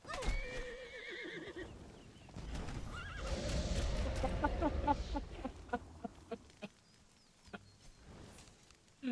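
A horse in the video game Conan Exiles whinnies loudly, its neigh rising and wavering, followed by clip-clopping hooves and scattered clatter, with some game-like background noise.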